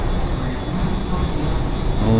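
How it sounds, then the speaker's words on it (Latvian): Metro train running through Rome's underground, a steady loud rumble and rattle of the carriage with a faint high whine, continuous throughout with a brief voice murmur. "Mēs esam metro, brauksim uz kurieni?"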